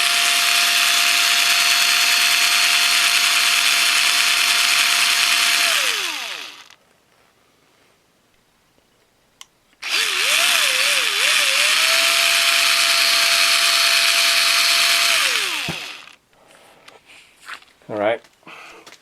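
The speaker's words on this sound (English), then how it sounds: "put a Q-tip on a drill and work it like that." A power drill spins a Q-tip to clean the carburetor of a Lawnboy 196cc mower, whining loudly in two long bursts with a pitch wobble on the second, with short clatters after.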